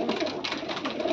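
Pigeons in a loft in Khulna coo softly and close by, a short burst of overlapping throaty, rolling calls with no talk.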